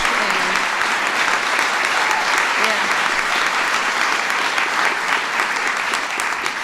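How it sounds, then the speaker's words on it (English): An audience at the White House applauds Chris, a veteran, a loud, dense, continuous burst of clapping from many people that holds steady throughout, with faint voices under it. "Let's give Chris a round of applause for her courage."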